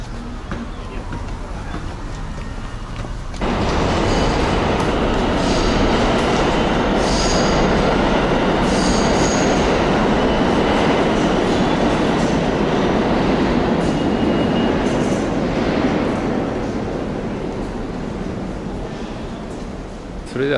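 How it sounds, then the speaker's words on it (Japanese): A New York subway train pulls into Union Turnpike–Kew Gardens station. A quiet platform hum gives way to a loud, sustained roar of wheels and rails with squealing and clatter. "ここからね、この地下鉄によって、マンハッタンにね、向かうという感じになります"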